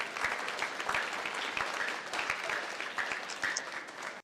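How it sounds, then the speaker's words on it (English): Applause for volunteers at a VEX robotics competition event in Batavia, Illinois: a moderately distant audience claps in a steady, even patter, with a few sharper individual claps standing out. "let's give them a round of applause"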